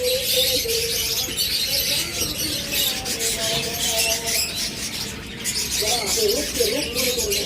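Lovebirds, cockatiels, budgies and finches chirp steadily from cages at a pet bird sale, a dense bright twittering that runs the whole time, with a voice speaking over it.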